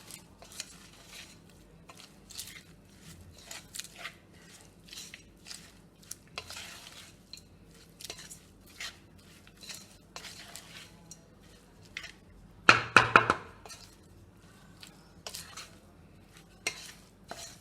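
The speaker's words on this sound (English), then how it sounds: "Now you just give it a nice mix." Seasoned rice for Iyengar Puliyogre being mixed in a pot, with soft repeated scraping and stirring strokes, faint clinks, and one louder clatter of a utensil against the vessel, otherwise quiet.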